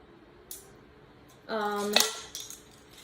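Metal measuring spoons clink and jangle together in one short bright ringing burst with a couple of lighter taps around it, close and alone against a quiet background.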